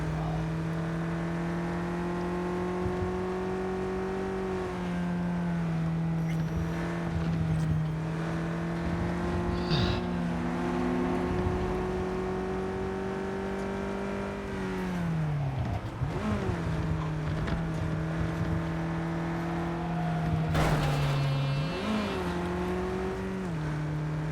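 A car driven in Cyberpunk 2077 gives a steady, loud engine drone that rises and falls with shifts and revs, sustained through the whole stretch with a few brief dips and squeals near the end.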